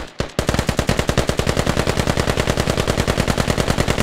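Sustained machine gun fire in the tactical shooter game Squad, a rapid, evenly spaced burst of loud shots running almost unbroken for about four seconds after a brief pause at the start.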